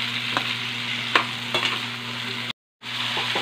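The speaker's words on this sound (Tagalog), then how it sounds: "Fried muna natin yung ampalaya." Bitter gourd (ampalaya) frying in a pan: a steady close sizzle with a constant hum, repeated scraping stirs, and a brief dropout near the end.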